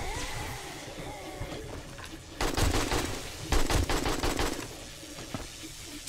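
An automated turret in 7 Days To Die lets loose rapid bursts of machine-gun fire, clattering in loud, close volleys separated by short gaps, with game ambience underneath.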